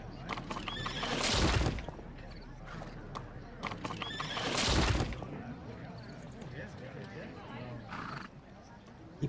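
A horse in the Sherlock Holmes: The Devil's Daughter video game gives two loud neighs with hoof clip-clop between them, while people talk quietly under the sounds.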